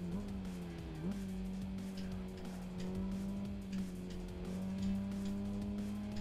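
A Lancia Delta racing car in Gran Turismo 5 holds a steady engine drone with shifting pitch and tire squeal through corners, loud and continuous.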